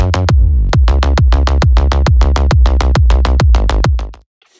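Fast, even four-on-the-floor kick drums, punchy and clipped short, pounding loudly over a low bass hum before cutting to silence.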